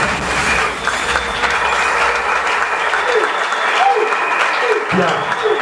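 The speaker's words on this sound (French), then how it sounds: "Est-ce qu'on peut acclamer s'il vous plaît?" Audience applause at a political morning meeting, a steady, loud crowd of clapping hands that continues throughout, with voices and shouts mixed in underneath.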